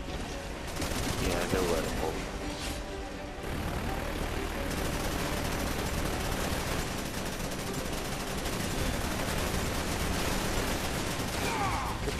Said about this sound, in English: look, conveniently placed turret